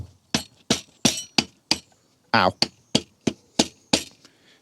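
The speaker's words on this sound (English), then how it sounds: "I want to hammer it in just to stop it slipping out again." A mallet hammers a T30 bit into a bolt on an Audi TT MK2 with the EA113 TFSI engine, giving about eleven sharp metallic knocks in an uneven rhythm. The strikes are close and loud, with one brief vocal exclamation partway through.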